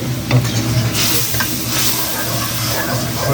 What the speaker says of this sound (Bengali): কাঁচামরিচ আর রসুন রসুন একটু ভাজাতে